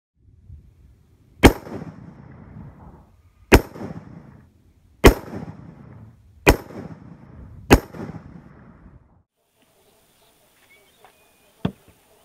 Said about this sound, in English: I'll just fire off a few shots and we'll see what happens.